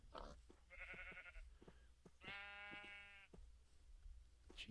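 Several sheep bleat in Minecraft, two distinct harmonic bleats with the second longer and louder, set over a steady low background hum with no talking.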